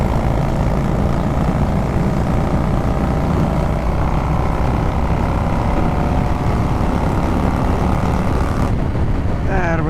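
A Yamaha Virago 1100 motorcycle with a loud exhaust roars at full throttle, a dense, continuous engine drone running the whole time before a brief shift in tone near the end.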